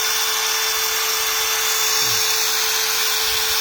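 A drill chuck spins a street outlaw tire wheel fitted with DE racing foam, giving off a continuous high, steady whine with a constant tone and a brief low rumble partway through.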